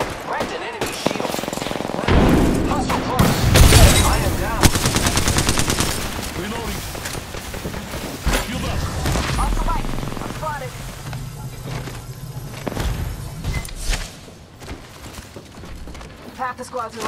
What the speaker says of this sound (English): Taking fire. I am taking fire, friends.